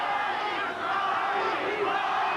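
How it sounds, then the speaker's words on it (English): A boxing crowd at the Bobby Chacon vs Cornelius Boza Edwards rematch chants steadily for Chacon, a dense, sustained roar of many voices filling the arena. "here's the crowd again chanting for Chacon"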